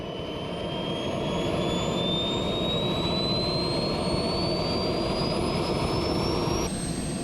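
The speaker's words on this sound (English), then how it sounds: "This jet car was complex to run, with a whole load of unknowns" An RC jet car's jet engine roars loud and constant at speed, its high whine rising steadily in pitch throughout, close and without talk.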